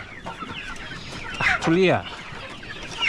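Chickens on a poultry farm cluck near a weighing scale, with one loud, drawn-out call rising clearly midway among scattered quieter clucks, while people talk nearby.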